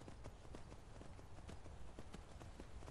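Horse hooves clip-clop in Skyrim VR, a quick, even run of hoofbeats over a constant bed of game ambience, quiet overall and with no one talking.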